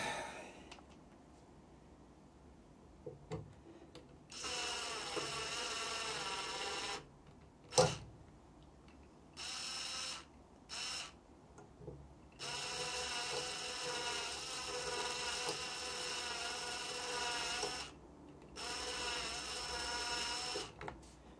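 A power drill works at extracting a broken screw from an elliptical exercise bike, whirring in repeated bursts of several seconds broken by short pauses and one sharp metallic clack, fairly faint.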